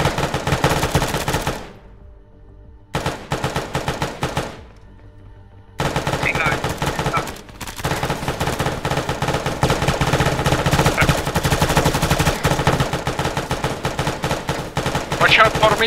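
Dense, loud gunfire from a firing squad in a combat video game: rapid bursts of shots crackling almost continuously, broken by two short gaps, with faint voices beneath.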